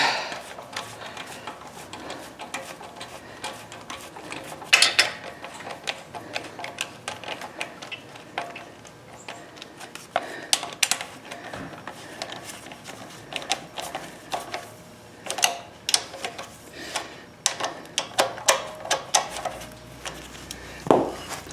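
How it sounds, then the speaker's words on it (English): A bolt is tightened by hand on a Troy-Bilt pressure washer: bursts of quick, close ratcheting clicks and small metallic taps come in uneven runs, growing busier toward the end, with quiet pauses between and no speech. "Replace it with the original bolt. And we tighten it up."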